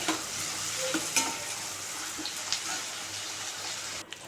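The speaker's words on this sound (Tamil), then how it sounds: "வெங்காயம் வதங்கிடுச்சு தக்காளி ஆட் பண்ணிக்கலாம்" Onions and tomatoes are sautéed in a pan for a drumstick kuzhambu, giving a steady, moderate sizzle with occasional light stirring taps and scrapes close by.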